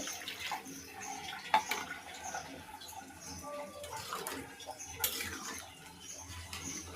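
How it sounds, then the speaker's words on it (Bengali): Water is poured into a pot of pigeon meat curry with potatoes, giving a soft, steady splashing trickle at low volume, heard close with no talking. "আর একটু জল দিয়ে দেব।"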